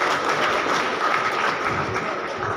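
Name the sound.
applause at a Yoga Day event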